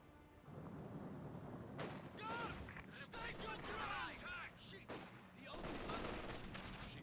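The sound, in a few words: light machine guns firing in video game Company of Heroes 2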